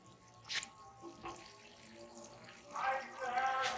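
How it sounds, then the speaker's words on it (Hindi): Water sprays from a shower head onto freshly planted moss rose (portulaca) cuttings, a soft hiss of streaming water swelling toward the end, fairly quiet and heard alone. "दोस्तों अब हम इनको पानी दे लेंगे शावर की मदद से"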